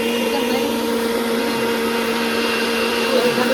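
An electric grinder blends dried red chilies and onion into a spice paste, giving a steady, loud, even motor whine with a constant hum that holds without a break from start to finish.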